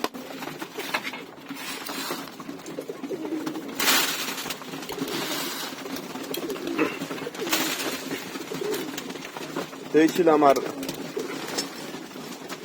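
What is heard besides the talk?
locked-up flying pigeons cooing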